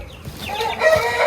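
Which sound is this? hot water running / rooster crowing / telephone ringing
rooster crowing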